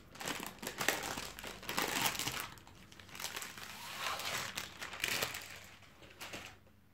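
Panini Euro 2020 Kick Off 2021 sticker and card packets being torn open and handled close up, with continuous crinkling and crackling of wrapper foil in uneven bursts and no talking.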